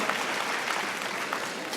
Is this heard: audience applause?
yes